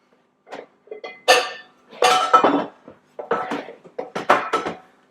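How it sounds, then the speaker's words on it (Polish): A copper-clad frying pan is picked up and set down on the stove, a run of separate metallic clanks, knocks and rattles, loud and close, with silence between them. "No może ja w ogóle wezmę ładniejszą patelnię."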